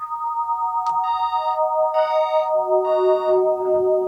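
A Modor NF1 synthesizer's additive oscillator sustains steady pitched tones while bursts of extra high harmonics flicker on and off in short clusters, with a brief click near the start; clean and alone.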